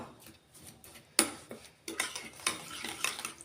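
Pizza sauce ingredients and mashed garlic are stirred by hand, a spoon scraping and clinking against a bowl in short irregular strokes with one sharper knock, close and fairly quiet, with no talking.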